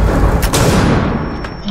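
A frag grenade detonates in the tactical shooter Rainbow Six Siege, a loud, close boom with a dense rumbling burst and crackling debris that fades over about a second and a half.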